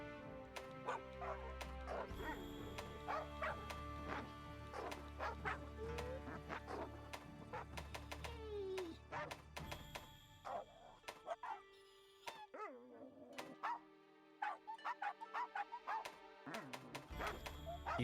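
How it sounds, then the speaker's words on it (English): Dog barking and yipping from the video game Monster Hunter Rise, a run of short close barks and whimpers over steady game music, pausing briefly before more quick yips. "These are just dog noises."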